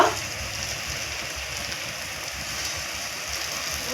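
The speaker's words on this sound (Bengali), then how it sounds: "তেলটা গরম হয়ে গেছে এখন আমি যে বানিয়ে রাখা মিষ্টিগুলো দিয়ে দিব" Gulab jamun sweets frying in a karahi of hot oil, a steady dense sizzling hiss with fine crackle running evenly throughout, no talk over it.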